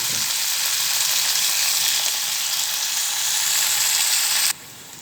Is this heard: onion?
yes